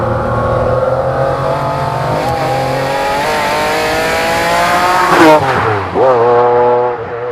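A McLaren F1 engine heard from the driver's seat pulls hard through the revs, a loud rising harmonic roar that peaks, drops at a gear shift, then climbs again.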